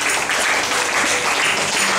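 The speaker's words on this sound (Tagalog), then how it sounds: "Palakpakan natin si Lord." A church congregation claps together in a brisk, loud burst of applause, dense and steady over two seconds, filling the room close by.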